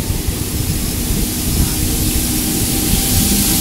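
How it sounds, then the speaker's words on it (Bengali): A down local train passes Majerhat station in Kolkata, a loud steady rushing rumble that fills the whole stretch without clear clacks or horn. "এই যে একটা ট্রেন যাচ্ছে, এই ট্রেনটা দেখুন, এটা কিন্তু ডাউন ট্রেন"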